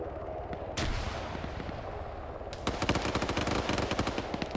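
Rapid automatic gunfire in the video game Arma 3 during a team firefight, bursts of sharp repeated shots, with a louder, denser volley in the second half.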